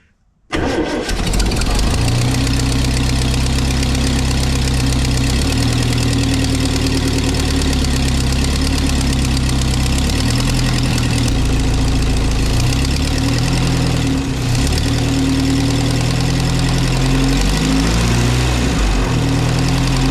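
A Triumph TR4 engine cranks and catches, then settles into a loud, steady, slightly uneven idle close by, with no talking over it.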